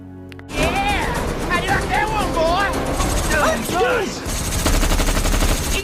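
Gunfire during a car race in a film, with rapid bursts of shots over loud engine and action noise and voices crying out, continuing across the whole scene.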